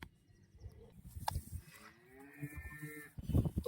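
A black-and-white HF cross cow that has just calved lows on a cattle farm, giving one drawn-out moo amid nearby shuffling and handling noises, with a louder thump at the end.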